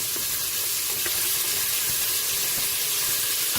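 Bacon lardons sizzle in a Cookeo electric pressure cooker pot while a carbonnade flamande is being made: a steady, close frying hiss with faint crackles, running continuously with no talk.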